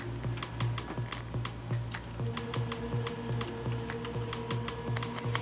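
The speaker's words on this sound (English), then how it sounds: "now she's gonna take her typing test" Computer keyboard typing on a Dvorak layout during a typing test, with rapid irregular key clicks running steadily throughout over a low background hum and no talking.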